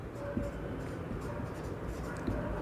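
A pen scratches across paper in short strokes, quiet and close, while someone talks over it.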